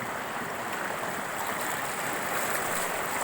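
Strong river current rushing in a steady, loud broadband wash of flowing water, continuous and close throughout with no voices.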